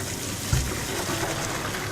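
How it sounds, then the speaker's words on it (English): Pasta cooking water pours from a pot as cooked pasta is drained for a chicken ragu, a steady gushing, splashing rush that stays fairly even throughout at close range. "Okay, so the pasta's ready to drain."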